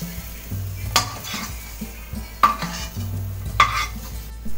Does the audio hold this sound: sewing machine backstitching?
no